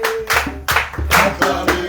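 Church congregation clapping along with a hymn in steady rhythmic bursts, loud and close, with singing voices and music sounding underneath.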